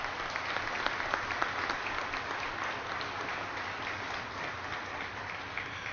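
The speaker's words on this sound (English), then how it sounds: "Can we please give them a big round of applause?" An audience at a Veolia Energy Green Steam ribbon-cutting event applauds in a dense, continuous wash of clapping that holds steady for several seconds, heard alone without talk.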